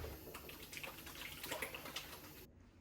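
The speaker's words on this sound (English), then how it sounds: "I will not touch anything until I wash my hands." Hands being washed under a running kitchen tap, a steady close hiss of water with faint splashing that cuts off abruptly at the end.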